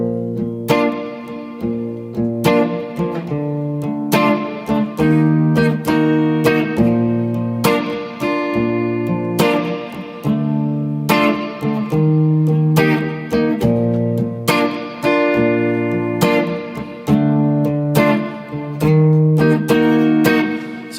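Guitar plays the verse of a song, a repeating four-bar pattern of strummed chords with regular accented strokes, clear and close throughout with no talking.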